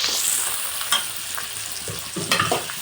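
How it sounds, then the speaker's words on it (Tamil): Mustard seeds, chana dal, onion and green chillies sizzle in hot oil while a spoon stirs and scrapes the pan in quick, uneven strokes, close and moderately loud. "கடுகு, கடலைப்பேலை, வெங்காயம், பச்சை மிளகாய் போட்டு நல்லா ஃப்ரை பண்ணிக்கலாம்."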